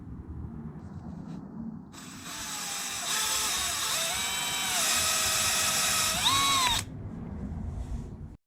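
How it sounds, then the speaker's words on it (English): A power drill bores holes in a Yamaha XV750 motorcycle engine, a close, high whirring run of about five seconds that rises and wavers in pitch, over a quiet background hum. "let's drill us some holes in someone else's bike engine."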